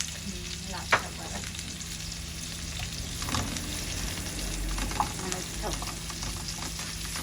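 Onions and garlic paste sizzle and fry steadily in a pan for a chicken, kohlrabi and red amaranth dish, with occasional sharp clinks of stirring; no one speaks.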